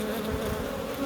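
Honey bees buzzing steadily at an open hive in Corsica, a close, continuous droning hum with no break across the short stretch.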